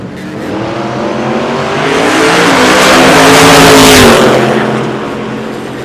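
Ford and Mustang no-prep drag race cars at Ozark Raceway Park, engines roaring loudly as they rev and accelerate, the sound swelling to a peak and then fading as they pass.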